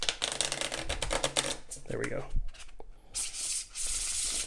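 A new deck of Copag plastic playing cards is riffle-shuffled up close, giving a rapid fluttering patter in bursts with brief pauses between shuffles, and a voice speaks briefly in the middle.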